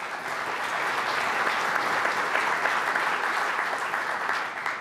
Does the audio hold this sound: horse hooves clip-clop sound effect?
no